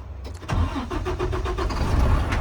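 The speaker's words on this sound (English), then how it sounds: "I start the truck." A truck's engine cranks for a moment then catches and settles into a steady, close idle, with a wheel-chocked truck sitting in neutral with brakes applied for a brake pushrod stroke check.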